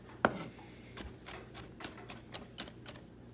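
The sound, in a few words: knife mincing garlic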